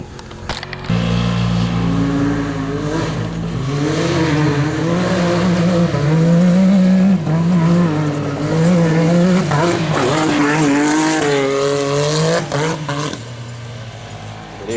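A Can-Am X3 XRS side-by-side tears around an off-road track at a park, its engine loud and revving hard with rising and falling pitch and bursts of acceleration across the whole stretch.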